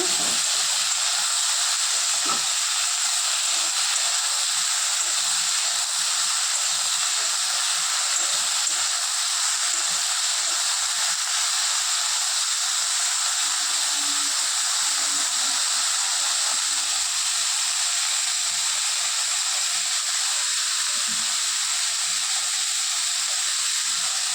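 Food fries in a pan with salt rubbed in, giving a dense, even, continuous hiss that stays loud and steady throughout with no talking.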